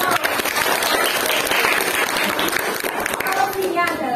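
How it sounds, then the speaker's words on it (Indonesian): A classroom group claps for a student, with dense, steady applause across the clip and some children's voices and chatter mixed in. "Untuk Afrida kita beri aplaus"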